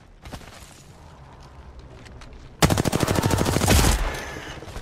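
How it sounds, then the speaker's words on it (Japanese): Rapid automatic gunfire in a video game crackles in a fast burst of sharp shots, preceded by fainter scattered shots further off. "誰か撃ってる"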